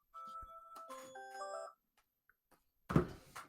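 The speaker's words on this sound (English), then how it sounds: "That phone's going off, but I can't find it." A phone alarm ringtone goes off indoors, a series of bright tonal beeps and chimes for about two seconds, followed by a brief burst of louder noise.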